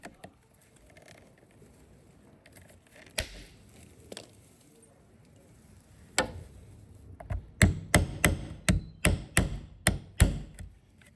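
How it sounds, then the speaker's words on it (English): A hammer drives nails into window glazing beading on a double glazed window, a few isolated knocks early on, then a quick run of about ten sharp, close strikes in steady rhythm near the end. "Refit all the beading. This will take several nails in each bead."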